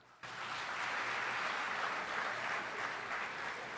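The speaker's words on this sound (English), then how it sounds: "give yourself a hearty round of applause" An audience of trainees at a graduation-style ceremony breaks into hearty applause, a sudden dense wash of clapping that starts abruptly and holds steady and close for several seconds, with no talk.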